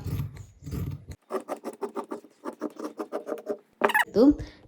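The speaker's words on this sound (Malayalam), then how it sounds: "അതിന് ശേഷം ഇത് ഇവിടുന്ന് സ്ട്രെയിറ്റ് ആയിട്ട് ഇങ്ങോളം കട്ട് ചെയ്തെടുക്കാം കേട്ടോ." Scissors cut straight through fabric for a feeding nighty in a quick run of rhythmic snips, close and crisp, after some low talk at the start and before a louder rustle at the end.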